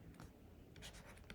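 Faint scratchy strokes of writing a heading on a board during a lecture, a few short soft scrapes in quick succession.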